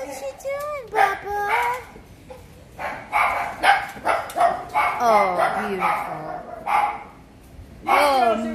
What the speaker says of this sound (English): look at those puppies. This is two litters.